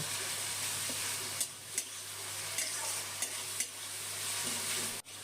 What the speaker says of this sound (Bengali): এখন এই বাটা মশলাটা কষিয়ে নেব